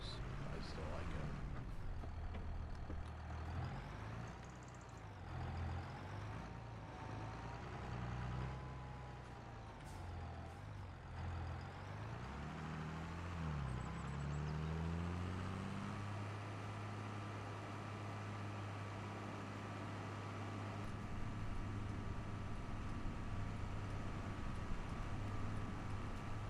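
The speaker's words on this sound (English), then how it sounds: "Well, it is not a fast tractor." A tractor engine in the farming video game Farming Simulator 25 drones steadily at low pitch, its note shifting as it drives along, with a continuous mechanical hum throughout.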